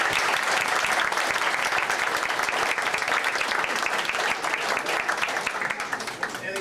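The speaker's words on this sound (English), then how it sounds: "I think we owe them a round of applause." Continuous applause at a retirement party for a St. Louis brewery employee, a full room of people clapping loudly and steadily, with some crowd voices faintly under it.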